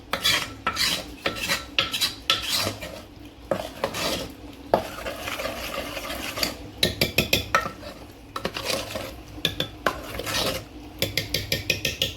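Chicken masala is stirred and fried in a pot over a village wood-fired stove, with rhythmic metal spoon scrapes and clanks against the pot in bursts over a low sizzle, close up and without speech.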